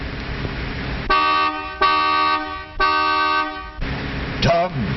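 A 1938 Chevrolet car horn honks three times in a row, each a loud, steady blast with a short gap between them. An engine rumbles underneath, and a brief squeaky whistle-like sound comes at the end.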